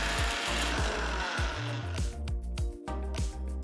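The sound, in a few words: mixer grinder grinding roasted masala into fine powder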